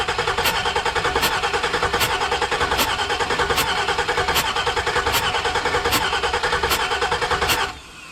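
A car engine cranks with its fuel injector unplugged and a compression test hose still in cylinder 4, the starter turning it over in a steady rhythmic churn for several seconds before stopping abruptly, loud and close.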